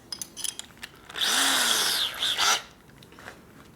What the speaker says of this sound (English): where's the 3/8 reamer?